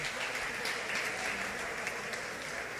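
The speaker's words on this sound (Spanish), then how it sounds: "Denle ese aplauso fuerte." A church congregation claps together during a worship service, a steady, fairly faint wash of applause that holds for the whole stretch with no clear break.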